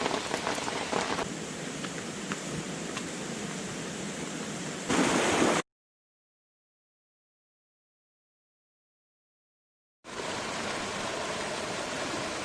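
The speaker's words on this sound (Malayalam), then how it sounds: "വീണ്ടും ശക്തമായ മഴ കാരണം പണി കിട്ടിയിരിക്കുന്നു" Heavy rain pours steadily on a cold misty morning in Idukki, Kerala, a dense even hiss that fills the scene, cut off by a few seconds of silence before the downpour resumes at the same level.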